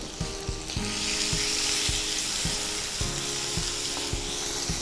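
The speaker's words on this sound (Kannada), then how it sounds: "ಆಗ ನಾವು ಈ ಆಚಾರಿ ಮಸಾಲ ಉಂಟಲ್ಲ, ಓಕೆ, ಅದನ್ನು ಹಾಕಿದ್ದೀವಿ, ಮಿಕ್ಸ್ ಮಾಡ್ಕೊಳ್ತಾ ಇದ್ದೀವಿ" Capsicum frying in a hot pan with achari masala stirred in, a constant loud sizzle with regular scraping knocks of the spoon against the pan, no voices.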